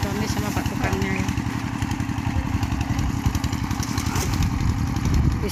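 A power drill bores ground for a house foundation on a building site, a loud continuous mechanical drone with a rapid pulsing rhythm that runs steadily throughout, close by.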